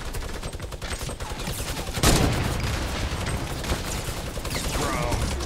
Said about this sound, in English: And nade launched.